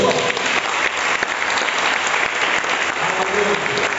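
Church congregation applauding during an evening Quadrangular family service, with steady, dense clapping that stays loud and continuous throughout, with some voices mixed in.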